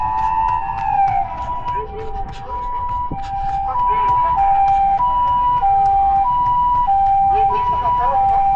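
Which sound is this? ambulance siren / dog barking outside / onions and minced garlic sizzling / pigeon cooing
ambulance siren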